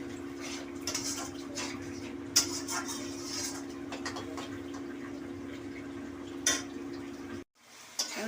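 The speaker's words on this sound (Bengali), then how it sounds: "এটা একটু আঁচটা কমিয়ে দিয়ে মশলাটা কষে নিই।" Spice paste frying in a pan over lowered heat, with clinks and scrapes of a spoon stirring against the metal over a steady hum, ending in an abrupt stop.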